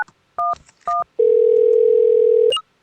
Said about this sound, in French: Si on compose un 911 dans le téléphone,